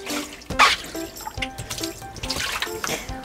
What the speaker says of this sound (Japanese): もう一回水が流しますね